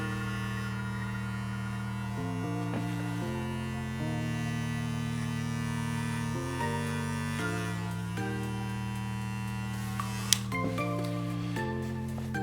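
Electric hair clippers buzz steadily and close while cutting hair on the sides of a man's head for a self fade, the motor's hum shifting pitch as the blade lever moves and the clippers press into the hair.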